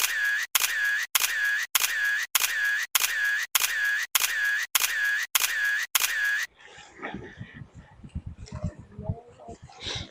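A camera shutter fires in a steady run of about a dozen crisp, evenly spaced clicks during a photo shoot at a temple, loud and close, followed by a few seconds of people talking.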